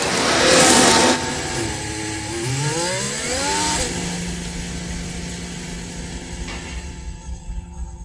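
Formula 1 race cars in a racing video game, engines whining and rising in pitch as they overtake, with a loud burst at the start and the roar then fading to a quieter steady drone.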